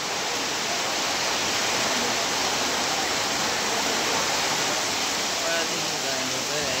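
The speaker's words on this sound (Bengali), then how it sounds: "এমন বৃষ্টি হচ্ছে মহেশখালীতে" Dense, steady roar of heavy rain in Maheshkhali, Bangladesh fills the whole clip, loud and unbroken, like a downpour close by.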